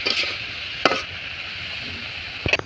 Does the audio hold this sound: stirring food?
yes